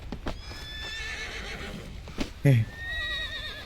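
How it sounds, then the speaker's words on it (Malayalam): A horse whinnies in a rising, wavering call in the video game Forza, with soft hoof clops and a brief low snort; someone speaks briefly around it. "നമ്മൾ ഈ കുതിരക്ക് കുട്ടൻ തന്നെയല്ലേ പേരിട്ടത്?"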